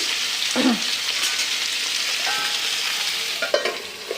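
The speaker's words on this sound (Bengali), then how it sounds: "এই যে জিরে ফোড়ন দিয়ে বসিয়ে দিলাম কচুরমুখি।" Taro root fries in oil with a cumin tempering, giving a steady, close, continuous sizzle with a few soft stirring scrapes and no talking.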